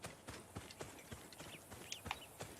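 Horse hooves clip-clop at a steady, quick rhythm in the video game Assassin's Creed Origins, close and fairly quiet, with no talking.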